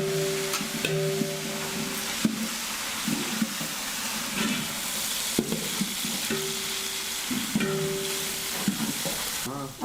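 A large pot of onions sautés for wedding-size chicken biryani, a loud steady sizzle with repeated scraping and clanking of a ladle stirring, plus a recurring low hum in the background, and no talking.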